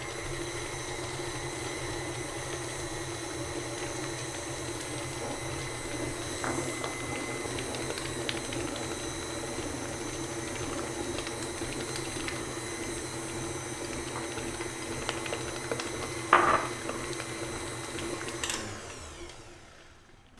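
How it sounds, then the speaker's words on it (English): Electric mixer running on low while beating brownie batter as eggs go in one at a time, a steady, moderately quiet whir that holds for about twenty seconds with a brief louder knock near the end before it cuts off. "I'm gonna turn the mixer on low and add in 1 egg at a time."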